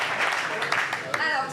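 Applause from an audience of students greeting a restaurateur presenting an invention idea, a steady dense wash of clapping with a couple of sharper peaks, heard alongside some speech.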